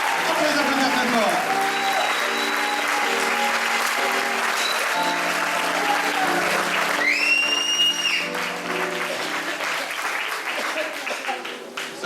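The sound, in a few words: audience applauding improv performers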